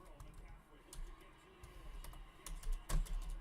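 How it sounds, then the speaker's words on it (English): Computer keyboard typing during a live stock market day trading Q&A, with irregular clicky keystrokes close up, quiet and uneven, growing louder and denser toward the end. "I don't know what's up with my keyboard and my typing"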